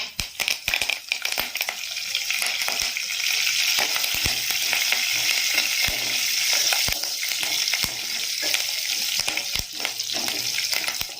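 Steady loud sizzling of a tempering of dried red chilli and curry leaves frying in hot oil, with scattered pops and crackles throughout.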